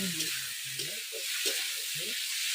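Pieces of katla fish sizzle in hot oil in a pan in a village kitchen, a steady bright crackle with a few low clanks of the utensil and no one speaking.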